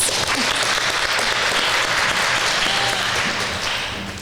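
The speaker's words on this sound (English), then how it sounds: "So let's give a round of applause." An audience at a talk on self-love breaks into loud, sustained applause, a dense wash of clapping that holds steady and begins to fade near the end.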